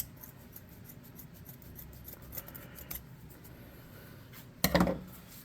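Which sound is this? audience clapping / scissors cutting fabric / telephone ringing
scissors cutting fabric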